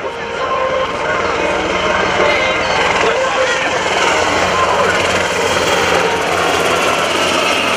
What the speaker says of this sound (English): flying the C-23 Sherpa.